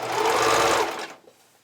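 A sewing machine zigzag-stitches elastic trim onto the side seam of ruffled panties, running in one loud, steady burst for about a second before stopping, with a faint clatter as it winds down.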